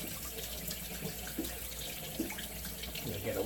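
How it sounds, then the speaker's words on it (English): Hot water runs from a bathroom tap in a continuous, gentle splashing stream, fairly quiet and close, with a few faint clinks over the flow. "I'm just going to put a little hot water on it"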